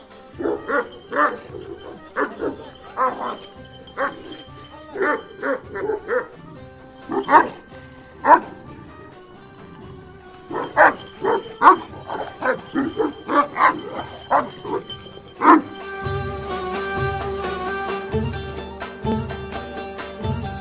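Dogs bark on a farm in Aksaray, Turkey, repeated close, loud barks and yips in uneven bursts, joined later by music.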